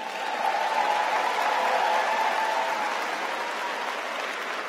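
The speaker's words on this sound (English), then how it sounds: "Let's give Mr. Sellers another round of applause" A graduate commencement crowd keeps up a steady, full round of applause from many hands in a large venue, even in loudness throughout, with no speech over it.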